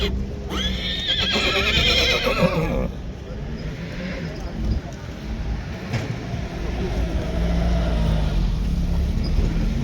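A horse foal neighs loudly and close at a horse market, one long whinny early on, followed by crowd murmur, passing vehicle noise and nearby talk.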